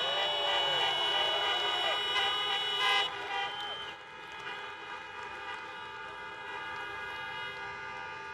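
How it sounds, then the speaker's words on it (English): Several car horns honk together at a rally, overlapping in long sustained blasts. They are loud for the first three seconds, then continue more softly. "Honk your horns if you've been vaccinated."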